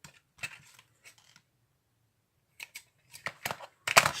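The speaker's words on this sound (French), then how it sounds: "je vais le couper avec mes ciseaux" Small scissors snip through a paper bookmark in short crisp bursts, a few quick cuts, then a pause, then a denser cluster of louder snips close by.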